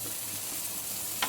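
Ham steaks sizzle steadily in a hot pan while being basted, a dense even frying hiss with a brief louder crackle near the end.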